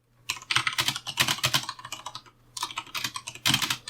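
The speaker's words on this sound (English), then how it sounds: "I'm going to type something random." Rapid clacking of keys on a computer keyboard, close and crisp, in two quick bursts split by a short pause, with no voices.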